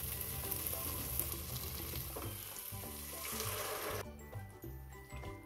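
Mutton paya cooks in a pot with fried spices, a soft bubbling sizzle with stirring sounds that turns quieter and thinner partway through.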